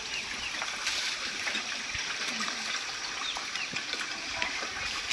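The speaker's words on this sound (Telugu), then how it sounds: "ఆ వాటర్ సౌండ్ విన్నారా ఎంత బాగుందో." Stream water flows beside a hill path at Ahobilam with a steady, moderately loud rushing hiss that stays constant throughout.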